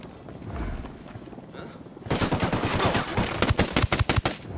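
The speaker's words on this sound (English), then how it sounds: "I'm opening fire." Gunfire in Ghost Recon Wildlands: after a quieter stretch, a dense volley of loud, close rifle shots erupts in rapid bursts and continues to the end.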